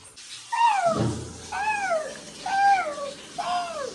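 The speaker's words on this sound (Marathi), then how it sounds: "तशी येते मांजर म्याव केल्यावर." A cat meows four times in a row, each a clear, drawn-out cry spaced about a second apart, close by in a quiet room.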